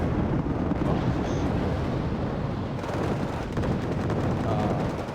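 A napalm bombing run in the Wargame strategy game produces continuous rumbling blasts and crackling gunfire-like bursts, dense and steady, with a brief shift midway and faint speech in the mix.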